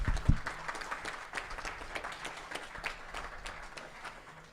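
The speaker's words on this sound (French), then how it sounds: "Je vous propose de l'accueillir en l'applaudissant." Audience applause at a public talk in Dijon on finance and Europe, welcoming a guest speaker: a steady, moderately loud patter of many hands clapping from a mid-sized crowd, fading slightly toward the end.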